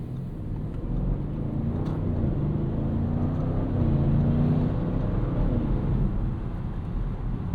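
A 2025 Audi RS6 Avant with a twin-turbo V8 and ZF 8HP gearbox drives along in steady cabin rumble, a low even engine drone with a slight rise in pitch mid-way.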